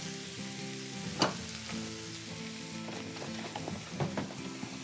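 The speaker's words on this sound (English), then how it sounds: "let's get our eggs going now" Eggs sizzle steadily in a hot pan that was used for cooking cabbage, with a constant close crackle broken by a few sharper spits and pops.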